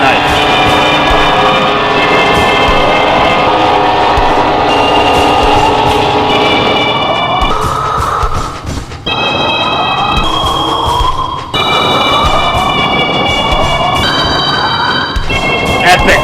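Trains rush past at a surreal station in the video game Lost in Vivo, a loud sustained roar of rolling wheels with squealing, shifting high-pitched metallic tones that swell and cut off abruptly several times.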